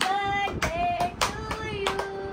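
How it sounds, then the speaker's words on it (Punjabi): Family members clap together at a home birthday cake-cutting, giving four or five fairly close, spaced claps while someone keeps singing over them. "ਤਾੜੀ ਮਾਰੋ, ਤਾੜੀ ਜ਼ੋਰ ਦੀ"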